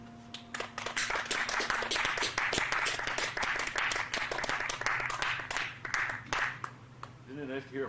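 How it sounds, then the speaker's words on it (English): Audience applause at a concert, a loose crowd of clapping hands going on steadily for several seconds, moderately close, with a low hum underneath and a voice starting to speak near the end. "Isn't it nice to hear applause again"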